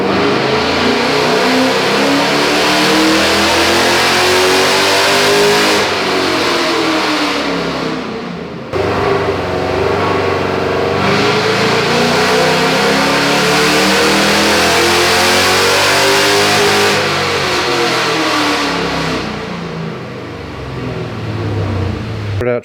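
A Pontiac G8 with aftermarket headers and exhaust revs hard and loud, its engine climbing and falling in repeated sweeping pulls with brief drops toward idle between them, close and alone.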